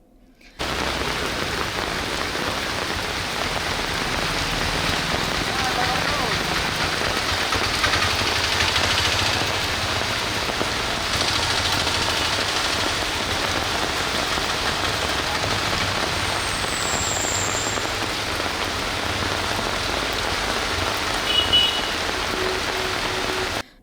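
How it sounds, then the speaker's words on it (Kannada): Torrential rain pours onto the streets of the coastal towns of Honnavar, Kumta, Ankola and Karwar, a dense, steady roar of downpour lasting over twenty seconds, with a faint engine rumble beneath. "ಧಾರಾಕಾರ ಸುರಿದ ಮಳೆಗೆ ಕರಾವಳಿ ನಗರ, ಪಟ್ಟಣಗಳ ರಸ್ತೆಯ ಮೇಲೆ ಮಳೆಯ ನೀರು ಹರಿಯಿತು."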